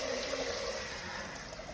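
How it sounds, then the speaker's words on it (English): Rice rinsed by hand in a sink, with water swishing and running steadily from a tap, a soft continuous splashing wash without any talk. "you basically just want to rinse your rice until the water runs a little more clean"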